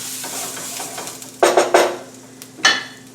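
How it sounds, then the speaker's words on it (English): Butter sizzles steadily in a frying pan, with a few sharp scraping and clinking strokes of a utensil against the pan over the soft hiss, close and without talk. "I put another tablespoon of butter into my pan here."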